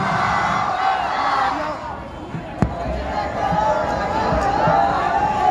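Political rally crowd at Champa Chowk in Aurangabad answering the Nara-e-Takbeer slogan, a dense roar of many voices that swells and rolls on steadily, with a brief sharp bang partway through.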